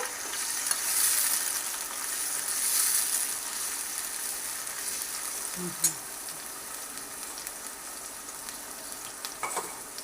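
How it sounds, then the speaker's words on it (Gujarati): Tomatoes and green chillies tossed into browned onions fry with a steady, close sizzle, a brief clatter of stirring midway and faint background voice. "હવે આપણે જે ટમેટા કટ કરીને રાખ્યા છે એ અને લીલા મરચાં એડ કરી દઈશું સરખી રીતે મિક્સ કરી દેવાનું છે"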